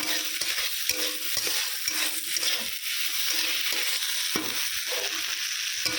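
Vegetables sizzle steadily in a hot pan while a utensil stirs them, making repeated scraping sounds over the constant frying hiss.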